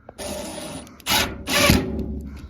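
A power drill drives a screw with a washer to mount a 2x4 fluorescent light fixture, heard as three close, loud whirring bursts separated by short pauses, with no talking.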